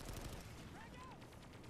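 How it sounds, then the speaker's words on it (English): Laser guns of the VS faction firing in a Planetside 2 battle, a faint stream of rapid, crackling shots with a whistling tone that bends through the middle. "I hear laser guns."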